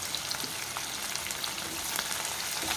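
Four small onions, sliced lengthwise, fry in a pan for a sesame bottle-gourd stew, giving a soft, even, crackling sizzle that runs steadily throughout with no voices.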